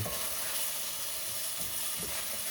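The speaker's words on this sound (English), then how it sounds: "the meat is cooking" Lean ground beef frying in a pan gives a steady, dense sizzle and hiss throughout, close and fairly loud, with faint clinks of stirring underneath and no talking.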